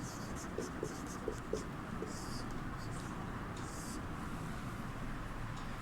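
Faint, steady scratching of handwriting as a Hindi grammar definition is written out during a Class 8 lesson, with occasional light taps under a constant low background hiss.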